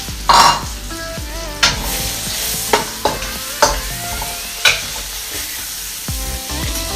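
Garlic and onions sizzle and fry in a hot pan, with a steady crackle broken by several sharp clinks of a spoon stirring against the pan, close and alone.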